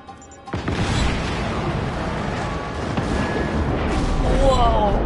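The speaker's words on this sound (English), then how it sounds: "That was a big explosion." A large explosion in the video game Just Cause 3 hits after a brief quiet moment and then rumbles on as a loud, sustained roar with debris and crackling mixed in.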